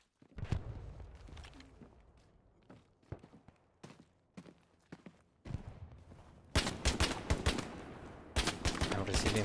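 Gunfire in a military shooter video game: scattered single shots and short bursts, some distant and some close, with footsteps in between and a heavier, louder barrage of fire near the end.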